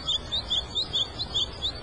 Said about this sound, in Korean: 시원한 바람과 나뭇잎 소리, 그리고 아름다운 새소리.